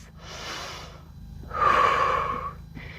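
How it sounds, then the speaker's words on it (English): During a yoga session, a slow, deep inhale through the nose is followed by a louder, fuller exhale. Both breaths are close and airy, with no talking. "We're going to take a few rounds of breath."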